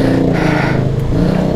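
A Honda X-Adv 750 motorcycle engine on a test ride, a loud, close, steady droning roar with a strong rumbling tone held throughout, as if under acceleration.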